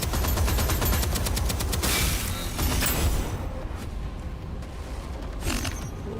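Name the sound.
turret gunfire in the video game Deadzone Rogue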